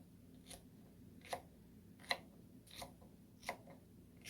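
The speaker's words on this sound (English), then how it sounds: "So what I'm going to do is just cut off the back, and I'm just going to cut it into cubes." A knife cutting garden-grown 16-inch okra into cubes on a board, giving about six sharp, evenly spaced chops that are close and clear over a quiet background.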